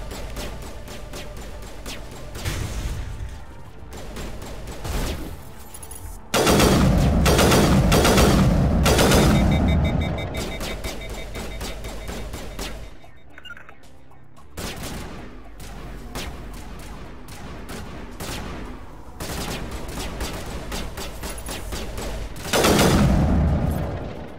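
Gunfire in Mass Effect, the first game of the Legendary Edition on PS5: loud, dense bursts of rapid shots and booming blasts that run for long stretches, with brief lulls between volleys.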